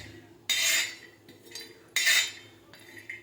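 A spoon scrapes and clinks against a metal pan while dried coconut heats, two loud bursts of stirring a second or so apart with quieter scrapes between them, close and with no voices.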